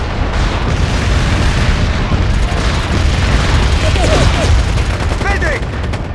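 Mortar battery fire in the PlayStation 3 shooter MAG rumbles as a steady, loud barrage of distant booms and scattered gunshots, with battlefield radio chatter and voices talking over the continuous din.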